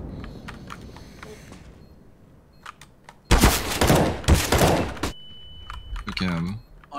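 Gunfire in an online shooter video game: a loud, dense burst of rapid shots lasting about two seconds mid-clip, with sparse keyboard clicks before it and a brief voice-like sound near the end.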